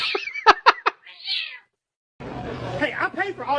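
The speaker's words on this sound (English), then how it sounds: "Damn cat, let go!" A cat meows and yowls loudly in a few sharp, close cries, followed by a short silence and then people talking.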